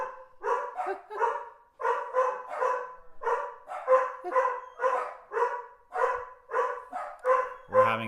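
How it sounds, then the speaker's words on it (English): Several dogs bark repeatedly in a steady run of sharp, overlapping barks close to the microphone, continuing for the whole stretch with no talk. "we're having a dog attack."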